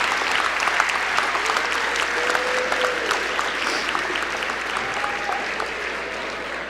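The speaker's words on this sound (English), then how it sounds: "let's give all of those people a round of applause" An audience at an award ceremony claps in a sustained round of applause, moderately loud and steady, slowly tapering toward the end with faint voices mixed in.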